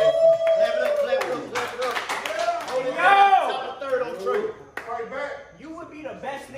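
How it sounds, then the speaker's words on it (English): An audience claps at a live rap battle on a stage, with loose, continuous applause running under loud shouting and talk from the crowd and performers throughout. "Clap it up, clap it up, clap it up."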